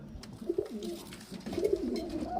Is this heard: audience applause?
no